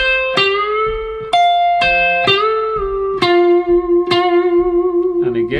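Electric guitar playing a smooth lick, a series of picked notes with string bends up and back down and sustained vibrato on the final held note, clean and close with no talking.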